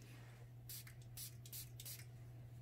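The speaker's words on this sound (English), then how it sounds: "And then I use my mini mister" A mini mister sprays alcohol ink in about four quick hissing bursts close by, over a steady low electrical hum.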